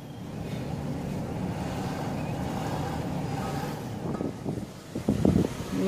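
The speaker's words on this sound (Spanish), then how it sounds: "Y sí, hace bastante, bastante viento." Strong wind buffets the microphone outdoors by the sea after a tropical storm, a steady loud roar with heavier gusts near the end.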